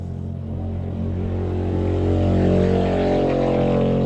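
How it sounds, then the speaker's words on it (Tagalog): Motorcycles pass along a street in a loud, continuous engine drone that swells toward the middle and stays heavy, with no talking. "ang ingay ng mga motorsiklo na dumadaan mga palangga"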